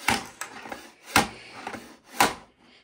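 Three scraping rubs of a computer mouse on a bare desk, each a short gritty burst spaced about a second apart, close and fairly quiet, no talking.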